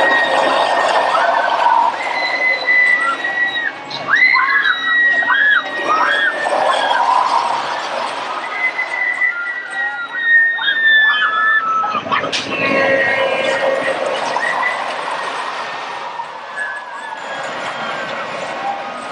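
Riders scream on an amusement park ride, with overlapping high shrieks and yells rising and falling from a crowd over rumbling ride noise, loud and sustained, easing off toward the end.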